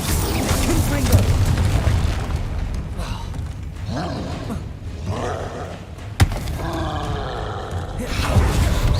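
Rumbling booms and roaring fire blasts from a Confringo spell explosion in the Hogwarts Legacy video game, with one sharp impact near the middle among swirling magical effects and game voices speaking over parts of it.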